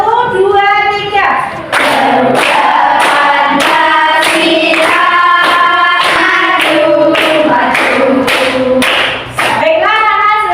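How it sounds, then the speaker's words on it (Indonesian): Children in a classroom sing a national song together while clapping their hands in a steady rhythmic beat, the voices loud and continuous throughout. "Kita menyanyikan lagu nasional sambil tepuk tangan ya."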